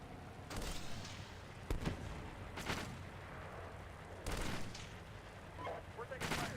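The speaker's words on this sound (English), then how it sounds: "Okay, I'm gonna 50 cal him." A tank's .50 cal machine gun fires in Steel Beasts Pro PE during a fight around a building, sharp bursts spaced a second or two apart over a low engine rumble.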